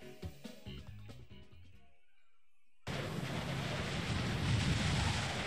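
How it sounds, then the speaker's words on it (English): Wind gusts blowing in a visual novel game, a broad steady rushing that starts abruptly after soft music cuts out and then holds at a constant level. "unfortunately, today is windy"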